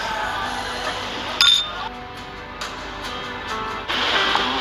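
Drinking glasses clink together in a toast during a gathering in Palawan, a single bright ping rising briefly over steady outdoor background noise with some murmur.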